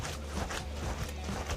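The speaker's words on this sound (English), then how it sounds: "That's the sound of a good pasta." Pasta in a chicken sauce with starchy pasta water is tossed and stirred in a pan for a Mediterranean chicken pasta, giving a steady, close, wet sizzling and shuffling noise.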